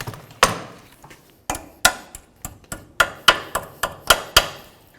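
Sharp metal taps on a cotter pin being bent over a castle nut during a power steering rack job on a 2007-17 Ford Expedition, about a dozen close, loud strikes in an uneven rhythm with no talk.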